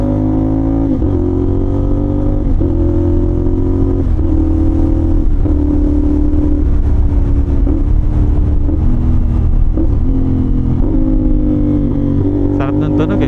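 A motorcycle engine pulls hard through repeated clutchless quick shifts, its pitch climbing and then snapping down at steady intervals about every one and a half seconds, loud and close throughout with a brief burst of crackle near the end.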